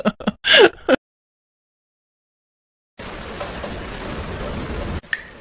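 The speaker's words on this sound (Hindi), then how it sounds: "बाहर बहुत बारिश हो रही है" Heavy rain pours outside in a Hindi cartoon as a steady, dense hiss lasting about two seconds. It follows a moment of brief vocal sounds and gasps, then cuts off abruptly.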